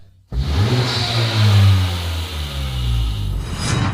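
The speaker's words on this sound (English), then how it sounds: "The engine sounds great and the dump valve is really nice." A Honda Civic Type R FK2 engine revs up loudly and close, rising and falling in pitch, with a hissing whoosh from its dump valve toward the end.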